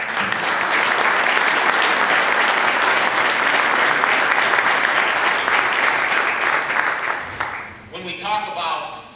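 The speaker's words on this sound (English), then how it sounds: "please give a round of applause for the tribute" Loud, sustained applause from a crowd at a ribbon-cutting grand opening for the Tube City Center in McKeesport, holding steady before tapering off into voices near the end.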